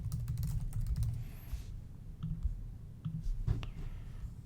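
Typing on a computer keyboard, close and steady, with a rapid run of clicking keystrokes followed by a few scattered key presses.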